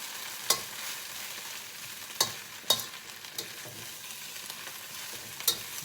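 Garlic frying in a hot pan gives a steady close sizzle, broken by a few sharp scrapes and clinks as it is stirred, with no talking.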